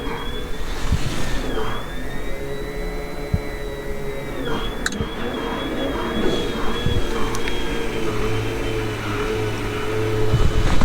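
An electric pump hums steadily aboard an FV180 Combat Engineering Tractor, a continuous whine with a slowly shifting pitch, mechanical rumble and occasional clicks, close and fairly loud.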